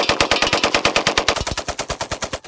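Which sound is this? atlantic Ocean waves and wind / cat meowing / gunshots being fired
gunshots being fired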